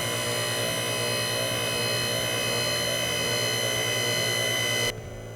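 A hydraulic bender pump hums steadily with tonal harmonics and a slight pulsing as the piston operates, then cuts off abruptly near the end, leaving quiet.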